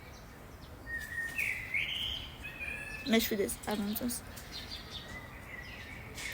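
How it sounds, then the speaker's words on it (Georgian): Small birds chirping outside in short, high, repeated calls, fairly faint and distant, while someone talks close by over them. "ჩიტების ჩიკ-ჩიკი ხო გესმით?"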